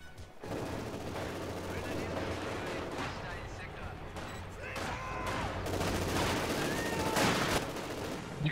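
Machine gun fire spammed in a battle video game, with steady bursts of automatic shots and occasional heavier blasts running throughout, fairly quiet and mixed with battlefield noise and faint voices.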